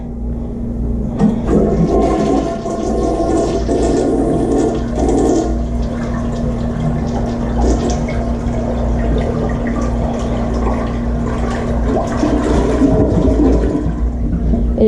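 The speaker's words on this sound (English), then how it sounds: "This toilet, I flushed it multiple times." A household toilet flushes loudly and close, a sustained rushing swirl of water that carries on steadily as the tank refills, with a low constant hum underneath throughout.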